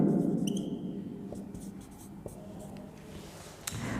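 A teacher writes on a board during a biology lesson on the respiratory system, with faint scratchy strokes and a few light taps against a quiet classroom hum.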